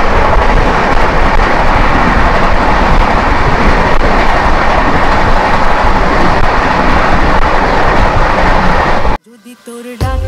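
Train 12810 Howrah Mumbai Mail via Nagpur roars past, a loud, continuous rushing rumble with rhythmic wheel clatter that fills most of the stretch before cutting away abruptly near the end.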